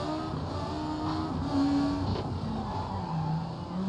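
A rally car, the Maxi, races in a driving video game with a steady engine drone that rises and falls with throttle over a continuous rumble and no voices.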